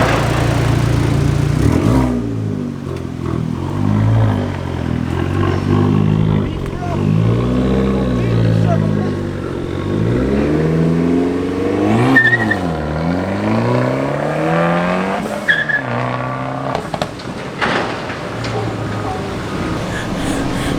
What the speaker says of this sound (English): we're gonna do a couple pulls down the street so we can see a bigger difference between the exhaust before and after